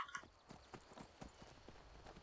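Horse hooves clip-clop at a steady trot in Skyrim, soft and fairly quiet, with a low game ambience underneath and no voices.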